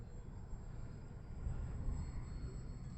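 A VMAR L-19 Bird Dog RC model airplane with a slow fly prop runs at nearly full throttle, giving a steady, faint, distant drone with a thin high whine, swelling slightly midway, without speech.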